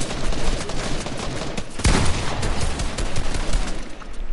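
Rapid bursts of shotgun fire in Fortnite, loud and dense, with sharp cracks layered over constant game noise and one heavy blast near the middle.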